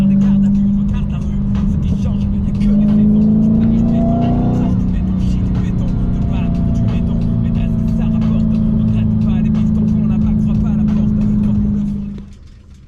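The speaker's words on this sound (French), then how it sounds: "c'est une vraie muscle car. Un moteur de fou." A heavy muscle car engine drones loudly and close, its pitch climbing as it accelerates, then holding a steady throaty hum before cutting off near the end, with faint voices underneath.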